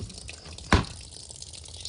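Water filling a container outdoors on a hot day in the hills, a steady liquid wash with one sharp splash or drip standing out near the middle, close and moderately loud.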